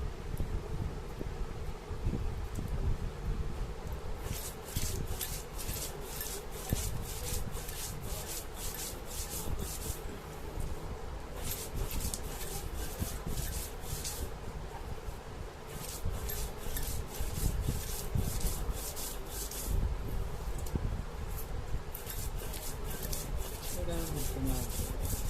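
Shrimp and plantain stem being cut up by hand for a Bengali home dish, a steady close rasping and scraping with bursts of rapid chopping strokes that continue throughout.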